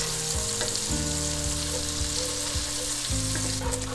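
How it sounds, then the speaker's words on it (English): Bacon and onions fry with a steady, loud sizzle in a pan while being stirred, the constant crackle broken by a few scraping and clinking stirs, with no voices. "Give it a good stir, get everything nice and coated and mixed."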